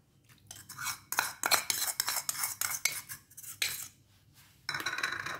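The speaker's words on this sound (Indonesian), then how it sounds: "lalu kita aduk-aduk kita ratakan semua biar terkena baking sodanya" A spoon scrapes and clinks against a bowl in a rapid, uneven rhythm while beef or goat meat is stirred with baking soda, close up with no talking.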